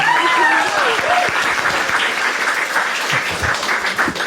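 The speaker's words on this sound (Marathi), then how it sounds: "एकदा टाळ्या वाजायच्यासाठी" Audience applause at a Marathi stand-up comedy show fills the room, a dense steady clapping that holds near-constant loudness throughout, with a few brief voices rising over it at the start.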